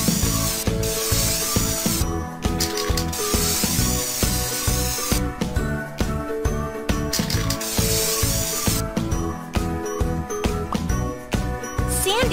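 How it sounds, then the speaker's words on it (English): Aerosol spray paint in a children's monster-care game hisses in repeated bursts over a bright jingly music track, with tinkling chimes and dings punctuating the loop. "Spray it with the color you like."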